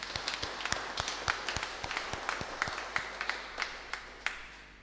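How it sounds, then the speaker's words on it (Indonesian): A congregation claps at a silver wedding anniversary thanksgiving Mass, producing sparse, distinct hand claps that sound scattered and slightly distant, with no voices over them. "Kita beri tepuk tangan untuk mereka."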